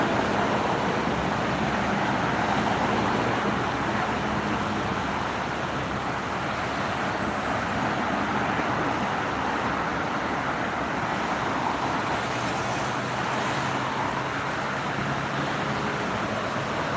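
Heavy vehicles pass on the Jakarta–Bekasi toll road, a continuous low roar of traffic with wind-like rumble that stays steady and fairly loud throughout, with no speech.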